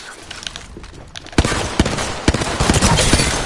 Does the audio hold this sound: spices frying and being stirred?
no